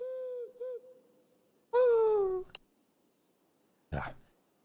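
A few hoots from an owl, one long wavering call in the middle, over a steady high insect-like trill, then a short harsh noise burst near the end.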